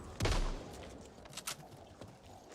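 Gunfire in the zombie shooter game Back 4 Blood: one heavy booming shot followed by a few fainter, scattered pops, played alone without talk.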